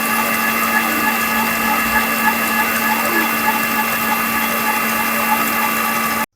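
Electric beater whirring steadily through banana cake batter mixed with sunflower oil, a constant mechanical drone with a humming tone that stops abruptly at the end.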